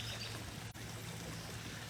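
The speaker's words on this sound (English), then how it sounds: "a walk down to the pond that you can hear" Water from a backyard pond trickles and pours in a continuous, faint outdoor wash, steady throughout with no voices.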